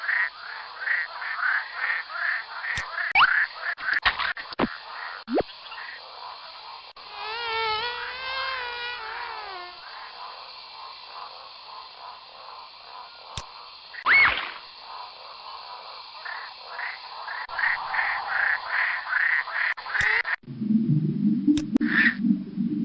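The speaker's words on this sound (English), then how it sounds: "That Peepa toad is one flat animal." Jungle pond among giant lily pads where a Pipa toad calls: rapid repeated croaking pulses and buzzy insect-like trills layered together, broken by a few sharp knocks and a lower rumbling stretch near the end.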